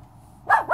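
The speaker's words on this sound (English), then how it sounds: "What are you barking at?" A single short dog bark heard close by in a home, a sharp burst near the end after a quiet moment, with no talking over it.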